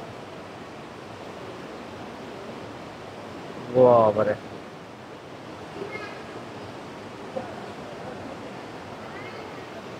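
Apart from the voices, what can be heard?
Devi Falls waterfall water flowing inside a cave in Nepal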